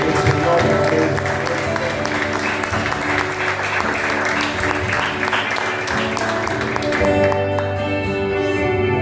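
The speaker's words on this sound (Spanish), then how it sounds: "Un aplauso" An audience at a church gathering applauds a woman minister, loud dense clapping that stays strong for several seconds, with music tones and voices running underneath before the clapping thins at the end.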